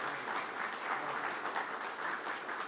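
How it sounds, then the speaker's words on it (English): A room of people applauds a staff member after a Hurricane Ida relief announcement, the clapping steady and dense at moderate level throughout. "She does deserve a round of applause."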